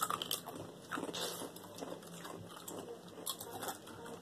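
Crunchy bites and chewing of a Doritos tortilla chip during a spicy food challenge, close and fairly quiet, a few crisp snaps followed by munching.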